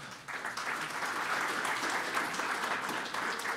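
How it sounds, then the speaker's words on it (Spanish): Steady audience applause fills a conference hall, a dense wash of many hands clapping without pause. "Recibámoslo con un fuerte aplauso."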